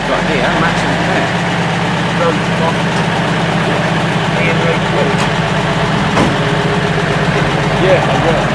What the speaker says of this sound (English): they seem to be firing up the engines